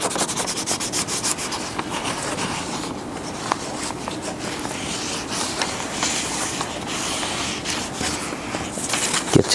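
Paper being rubbed steadily over an inked fish to make a fish print, a continuous close scratchy friction with faint short ticks scattered through it.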